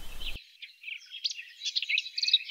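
A blackcap sings outdoors, a lively run of rich, warbling phrases in quick succession, clear and fairly close against a silent background after a brief burst of other sound at the start.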